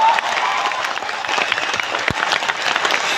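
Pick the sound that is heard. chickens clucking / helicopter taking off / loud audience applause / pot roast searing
loud audience applause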